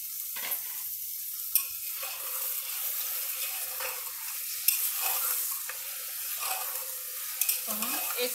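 Mutton pieces frying with pink-browned onions and whole spices in a pot, a soft hiss of sizzling under occasional stirring knocks and scrapes, fairly quiet and steady without speech.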